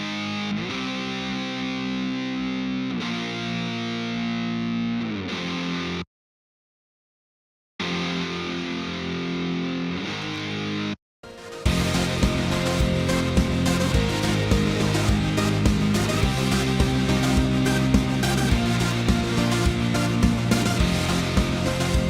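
A buzzy electric guitar played through a distortion effect gives a thick, saturated drone. It is interrupted by two short silences, then returns louder and denser for a sustained stretch.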